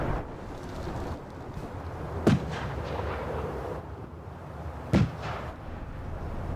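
Two sharp, heavy booms from an airstrike in a competitive team shooter match, spaced a few seconds apart over a steady rumbling game-noise bed, each a brief loud impact with a short decaying tail.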